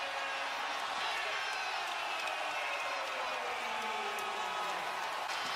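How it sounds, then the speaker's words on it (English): An NBA arena crowd roars after a Jayson Tatum dunk for the Celtics, a dense, continuous wash of cheering and shouting that stays steady and fairly distant, with a commentator's voice talking over it. "Jason Tatum has electrified the crowd."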